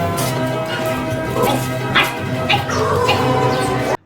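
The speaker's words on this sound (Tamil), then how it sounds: "இது அவர் வீட்டில் இருக்கிற நாய்." A household pet dog kept at a home barks and yips in short repeated bursts for about four seconds, close and fairly loud, with faint talk underneath.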